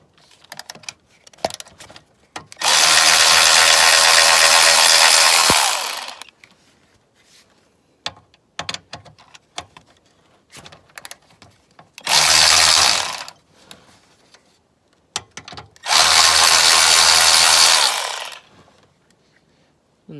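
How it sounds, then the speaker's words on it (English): A 13mm ratchet wrench works the two power steering fan nuts under an R53 Mini Cooper S, heard as three long, loud runs of rapid ratcheting separated by scattered close clicks and knocks. "you're going to want to take a 13mm ratchet wrench"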